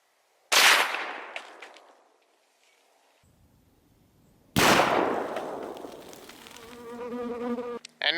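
A .223 rifle fires a 55 grain Ballistic Silvertip varmint bullet outdoors: two loud, sharp blasts about four seconds apart, each trailing off in a ringing decay.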